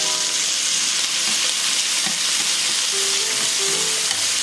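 Scallions hit hot oil in a wok while crispy chow mein noodles are being made, giving a loud, steady sizzle and crackle that carries on throughout with no speech.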